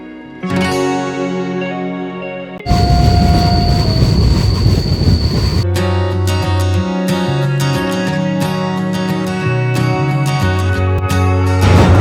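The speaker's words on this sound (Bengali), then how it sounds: "জঙ্গলের বুক ছিঁড়ে এগিয়ে চলেছে আমাদের ট্রেন" A train running through the Dooars forest, loud and close, with a rumbling roar of wheels, sharp high squeals from the rails and rhythmic clatter from the cars, steady for the whole stretch.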